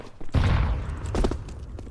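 A flashbang grenade in Counter-Strike 2 bursts with a sudden loud, close blast that rings out and decays over about a second, followed by a second rumbling impact and fainter game noise.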